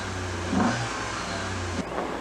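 Engine of a 1986 Dodge starting and revving, a steady close mechanical drone that swells briefly and shifts pitch partway through, with nobody talking.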